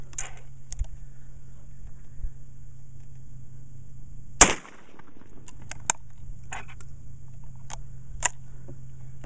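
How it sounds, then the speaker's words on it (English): A Rossi .410 shotgun fires a slug, producing one sharp, loud report partway through an otherwise quiet stretch outdoors with a faint steady hum. "shoot all five of these slugs and see what kind of group we get"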